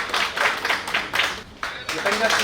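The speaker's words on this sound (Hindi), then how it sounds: "आप लोगों का तालियां ही बताएंगी कि हमारे अतिथियों का स्वागत किया जा रहा है।" An audience at an indoor ceremony claps to welcome guests, a dense round of hand clapping that pulses in uneven bursts, dips briefly near the middle, then resumes at full strength.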